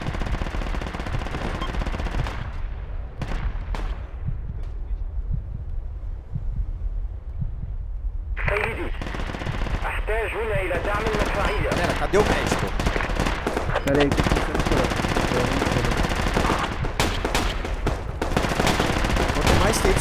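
Gunfire in Project Reality v1.3 on the Sbeneh map: rapid automatic bursts and scattered shots, mostly distant at first and then heavier, under voice chat from players.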